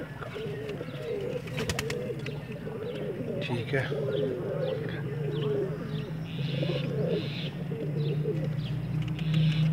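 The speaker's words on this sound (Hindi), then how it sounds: "ये टैडी कबूतर है जी" Pigeons coo steadily in low, rolling calls, joined by occasional chirps from other birds, with a brief spoken remark partway through.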